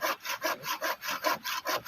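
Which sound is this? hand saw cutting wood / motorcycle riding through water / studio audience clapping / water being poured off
hand saw cutting wood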